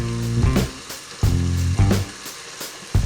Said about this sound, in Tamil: இந்த மசாலாவோட பச்சை வாசம் போகிற வரைக்கும் இது நல்லா வதக்கணும்.